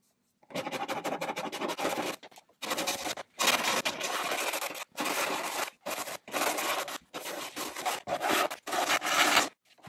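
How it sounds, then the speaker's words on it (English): A Shinto saw rasp shapes a wooden charcuterie board in repeated bursts of coarse scraping strokes, each lasting about a second with short pauses between, close and fairly loud. "I'm using the Shintu saw rasp for this."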